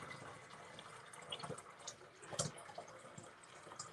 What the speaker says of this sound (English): So I fill that up with distilled water.